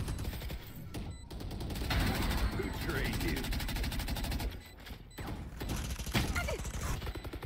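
Bursts of rapid automatic gunfire in a shooter video game crackle through a tense bomb-site round, broken by short pauses, with a player talking over the shots.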